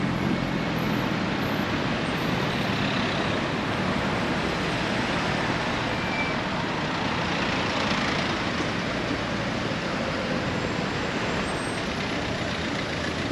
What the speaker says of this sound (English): it's way too noisy with all these cars everywhere